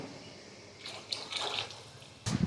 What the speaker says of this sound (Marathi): थोडंसं पाणी घालून घालायचं हे गरम पाणी आहे